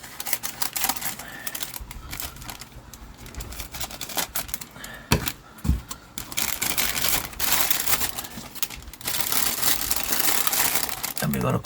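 Sheet of plastic being cut and handled while covering an industrial wheelie bin grow tank, with irregular crinkling and rustling bursts, some sharp crackles, and a person talking over it.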